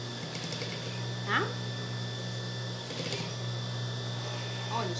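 A sewing machine stitches a folded elastic seam on a baby's diaper-cover dungaree, its motor whirring in a steady hum with short bursts of fast needle clatter, fairly close.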